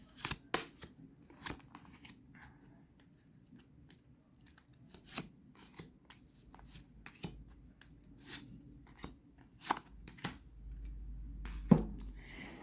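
Tarot cards being shuffled and laid out for a pyramid spread, soft scattered flicks, taps and slides of card stock at irregular intervals, close and quiet with no talk.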